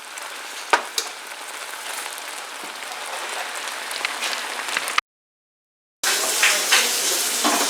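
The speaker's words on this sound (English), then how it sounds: "you need to continue stirring until it's caramelized" Sugar sizzles and crackles in a pan as it caramelizes under steady stirring, a dense frying hiss with a few sharp taps, briefly cutting out before resuming.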